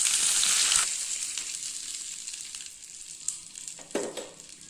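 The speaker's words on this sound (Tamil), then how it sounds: "கடுகு பொரிய ஆரம்பிச்சிச்சு" Mustard seeds splutter in hot oil for a guava chutney tempering, starting as a loud dense sizzle that eases into scattered sharp pops, close and without talk.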